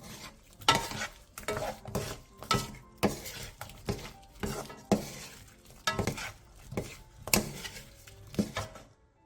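Zucchini and dried shrimp are stir-fried in a pan, a spatula scraping and tossing in regular strokes about once a second over a low sizzle, close and fairly loud.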